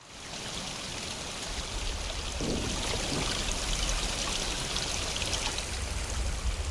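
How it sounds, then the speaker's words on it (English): Loud, continuous rushing stream water in the video game Atomfall, a steady close splashing flow that fills the whole stretch with no voices. "Some very loud water."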